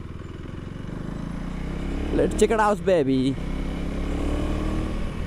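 A KTM motorcycle engine rumbles steadily throughout in second gear, with a short burst of someone talking briefly over it in the middle.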